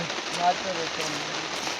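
Steady rain patters on the ground during a lightning storm on a hillside, a continuous broadband hiss filling the scene close by, with a faint voice briefly audible beneath it.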